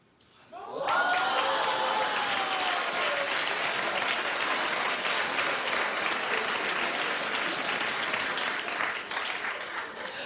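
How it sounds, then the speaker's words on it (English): Studio audience on a daytime talk show bursting into sustained applause that starts abruptly and holds steady for about ten seconds, with a few whoops and chuckles mixed in. "I don't know what they're clapping at, Starla."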